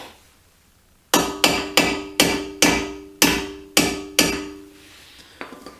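A hammer taps a brake pad pin into place on an Aston Martin V8 Vantage, eight sharp metallic strikes in a steady rhythm, each ringing briefly, followed by a couple of faint knocks.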